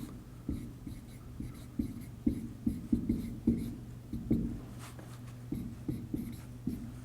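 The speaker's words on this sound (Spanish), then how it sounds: "Ya voy tomando nota para el siguiente ejercicio," Notes being written by hand make quiet, irregular scratching strokes and taps, close up, in short bursts with brief pauses and no voices.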